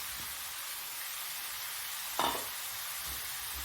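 Finely chopped cauliflower frying in a pan, giving a faint steady sizzle with one brief scrape of stirring midway.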